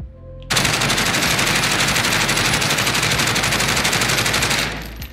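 A gun fitted with a foregrip fires a single sustained full-auto burst in Call of Duty Warzone (Modern Warfare), loud, close and rapid, lasting about four seconds before cutting off.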